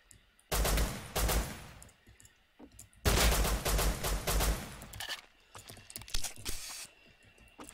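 Gunfire in the video game Rust: two long bursts of rapid automatic shots, loud and dense, followed by scattered single shots and clicks, with no talk.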